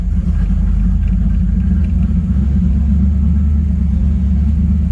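Car engine idling roughly and erratically with the foot off the gas, a loud, close, continuous low rumble that wavers unevenly.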